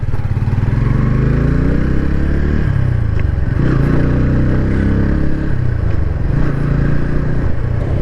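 A Bajaj Pulsar N150 motorcycle ridden on the road, its engine loud and steady with rising and falling revs as gears shift, plus some wind and mechanical clatter throughout.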